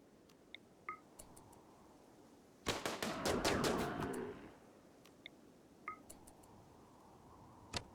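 Charge rifle gunfire in Rimworld, a tight cluster of rapid sharp shots in quick succession lasting under two seconds, fairly loud, surrounded by scattered single clicks and short electronic beeps from the game.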